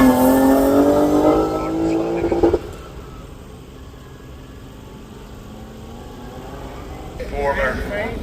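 A BMW race car roars past at the Craigantlet hillclimb, loud at first and then quickly fading into the distance. A commentator talks over it, and the engine note rises faintly again near the end.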